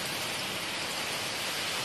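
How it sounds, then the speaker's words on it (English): Steady, dense hiss of heavy rain and wind during Hurricane Irma at night in Miami, continuous and unbroken with no other sounds standing out. "Windy, rainy."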